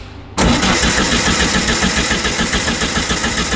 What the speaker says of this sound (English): Andy's going to jump in the front and turn it over on my command